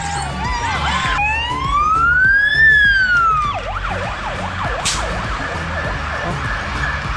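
A fire engine siren wails loudly nearby, sliding up and down in long sweeps before switching to a fast yelping pattern, with faint street noise underneath.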